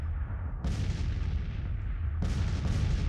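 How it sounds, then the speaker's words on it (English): Civil War artillery duel in the video game Grand Tactician with the 5th Brigade Artillery, heavy cannon booms landing in rolling succession over a dense, rumbling battlefield din, loud and with no voices. "We're just doing this artillery duel right now with the 5th Brigade Artillery."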